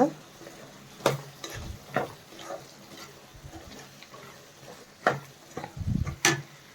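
Soya chunks gravy being stirred in a frying pan, with scattered scraping strokes of a spoon and a soft sizzle underneath, close and moderately loud, with a few pauses between stirs.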